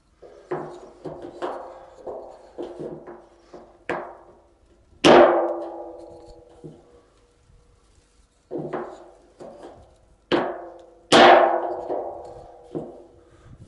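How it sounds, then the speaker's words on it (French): A hammer strikes a dented car body panel held against a dolly, sharp metallic ringing blows in irregular clusters, some light taps and a few loud resonant hits with a lingering ring, close and without speech. "Avec la cale, l'avantage c'est que quand on va arriver, on va renfoncer la bosse"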